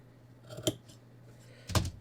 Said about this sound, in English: let me just cut my hem allowance here